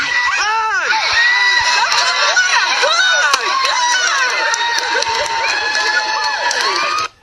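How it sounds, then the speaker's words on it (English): A crowd cheers, shrieks and claps as a deer runs toward the water. Rising and falling excited voices stack over continuous clapping, loud and close, until the sound cuts off abruptly at the end. "Everybody's clapping because the deer ran to the water"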